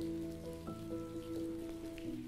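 Steady rain falls continuously in a calm setting, a soft even patter with scattered droplet ticks over a sustained tonal music bed, no voices present.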